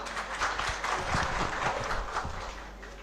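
At a police bravery awards ceremony held on a news channel's stage, a seated audience applauds the guests in a dense, steady wash of clapping, swelling slightly in the middle before easing off toward the end.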